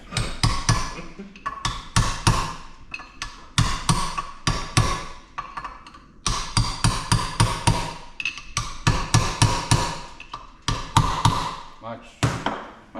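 A hammer strikes repeatedly while a bearing is fitted on a John Deere B tractor, loud sharp metallic blows in rapid runs with short pauses between bursts.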